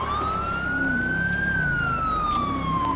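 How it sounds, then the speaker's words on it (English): A wailing police siren in a video game rises and falls steadily over a constant low engine rumble, loud and close, with no voices. "I don't think we need all our sirens on."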